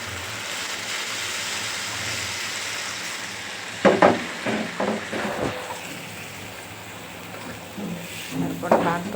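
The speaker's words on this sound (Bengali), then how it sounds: "সব মশলার সাথে টমেটো আমি কষাই নিতেছি" Tomatoes cooking with spices in a pan give a steady low sizzle, with a burst of stirring scrapes and clatters midway. A voice speaks faintly at times.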